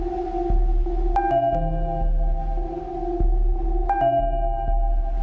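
A sonification of the Pleiades star cluster plays as layered electronic tones: low sustained drones with bright plinking notes entering in two clusters, overlapping pitches shifting over a steady hum.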